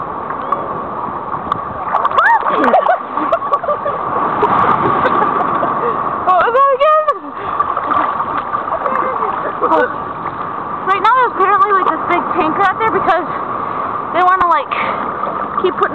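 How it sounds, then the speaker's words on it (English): Ocean waves wash and splash onto a sandy beach in Cancun beside clear blue water, a continuous loud surge with steady rushing noise throughout, while people talk over it at several points. "Okay, here's another wave."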